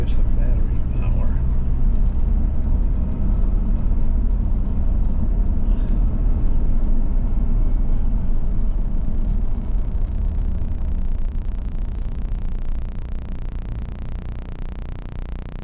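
A truck drives near Aguirre Spring, giving a loud, steady low rumble from the cab that fades slightly toward the end, with speech-like sound in the mix.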